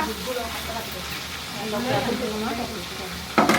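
Egg korma ingredients fry and are stirred in a pan at an outdoor office picnic. The sizzle is steady, and a voice talks over it. A sharper scrape or splash comes near the end.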